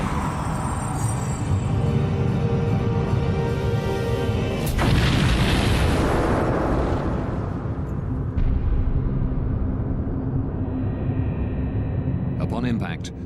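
Mid-air collision of a Bashkirian Airlines charter jet and a DHL cargo plane, rendered as a loud roaring rumble with a heavy boom partway through as the aircraft break apart, then a sustained low roar with dramatic scoring.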